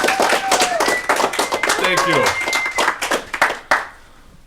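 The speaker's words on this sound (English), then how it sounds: "Let's give Emma a round of applause." Audience clapping for a player at an improv comedy show, a dense burst of hands that thins out and stops near the end, with a voice and other tonal sounds over it.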